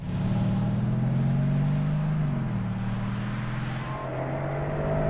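A 2013 Mercedes-Benz SL550 engine pulls hard under acceleration, a loud, steady low drone that rises in pitch, dips briefly around a gear change, then climbs again.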